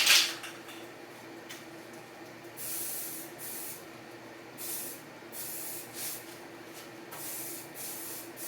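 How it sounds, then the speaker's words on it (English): A nearly empty aerosol spray paint can hisses in uneven bursts while coating a Crown Victoria fender, several short close blasts of spray separated by brief gaps, with no talking. "the can's starting to kind of, not sputter, but it's blasting more than an even spray"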